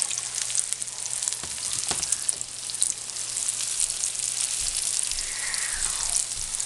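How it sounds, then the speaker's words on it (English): Continuous crackling sizzle of pepper and onion frying in oil, steady and close, with a few faint clinks from a utensil. "since we're frying these in oil"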